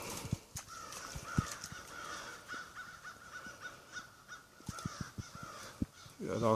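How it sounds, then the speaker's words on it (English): Crows cawing outdoors along a steep nature trail leading down to the water on Cape Cod, with repeated harsh calls in bursts at moderate distance over breezy ambient noise. "Got all kinds of birds cackling away."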